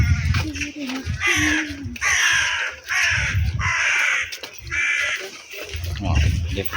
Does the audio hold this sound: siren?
no